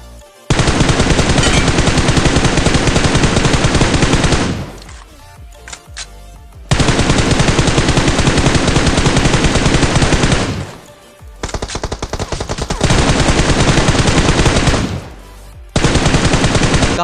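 Rapid automatic gunfire in the BGMI mobile battle royale game, loud sustained bursts separated by short gaps, with no talk.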